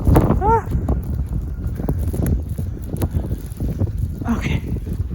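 Blizzard wind roars loud and steady along a snowbound Brooklyn street, buffeting the microphone throughout with gusty rumble, while a person breathes and exclaims briefly near the mic.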